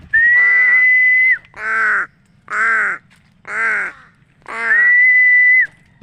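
Loud, close crow caws: a few harsh calls in a row, some drawn out and others short, with no talking.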